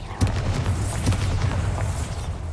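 A Confringo spell explosion in Hogwarts Legacy: a deep, rumbling blast with a burst at the start, sustained low boom and crackling debris over a couple of seconds.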